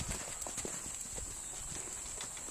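Horse hooves clip-clopping during a riding lesson, a quiet irregular series of soft thuds heard at a distance under a constant high whine.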